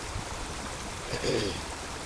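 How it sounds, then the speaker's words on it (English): A creek flows past the bank on a sunny February day, a quiet, steady burbling trickle of running water with a slight swell toward the end. "I thought I'd bring you down to the creek bank"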